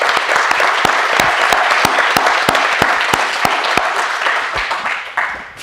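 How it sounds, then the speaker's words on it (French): Loud, close audience applause at a managerial innovation forum conference, a dense run of individual claps that holds steady for several seconds and then begins to thin out. "J'aimerais bien qu'on applaudisse."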